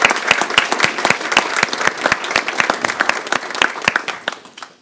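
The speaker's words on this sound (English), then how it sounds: "Let's all direct a round of applause to these guys" An audience at a conference introduction applauds in a dense, steady wash of many hands clapping, holding fairly loud throughout and fading slightly at the end, with no talk over it.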